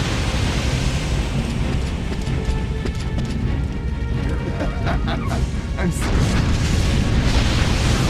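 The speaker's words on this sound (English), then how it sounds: "Watch out for explosions!" Explosions and crashing debris in a firefighting video game set in a blazing inferno, loud continuous booms and smashes filling the scene under steady fire roar.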